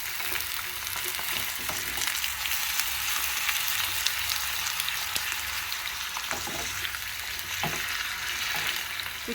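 Potatoes fry in hot oil in a skillet while being stirred, a steady dense sizzle with scattered pops and occasional scraping from the stirring, close and continuous throughout.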